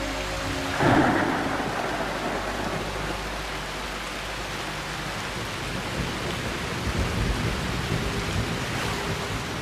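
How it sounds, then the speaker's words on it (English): Monsoon rain pours steadily over South India while a thunderclap booms near the start and rumbles away beneath a continuous hiss of rainfall. "From out over the Arabian Sea, the monsoon finally arrives in South India"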